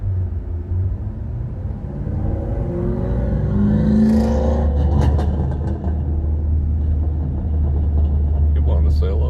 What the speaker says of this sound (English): That LS engine sounded nice.